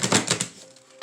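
Quick, rapid riffling clicks of tarot cards being shuffled, a brief pause, then another short burst of card flutter at the end.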